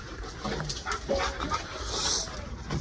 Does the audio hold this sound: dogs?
yes